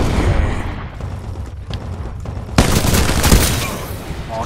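Rapid bursts of automatic gunfire and booming blasts from the Titanfall 2 multiplayer shooter, loud and continuous, with a player's voice briefly audible.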